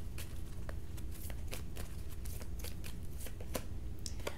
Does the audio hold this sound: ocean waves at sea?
no